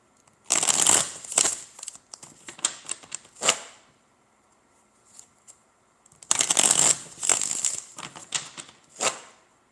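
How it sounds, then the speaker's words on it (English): Crisp riffling bursts of a tarot deck being shuffled, two long flurries separated by a quiet pause, close and clear with soft taps between. "Let's get a couple more shuffles here, and then we'll get started."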